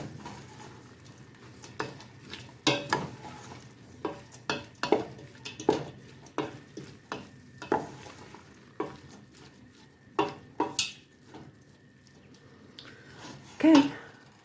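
Garlic cooking in a chili pot gets stirred, giving a run of irregular scraping and clinking knocks of a spoon against the pot, close and fairly quiet, with a faint sizzle beneath.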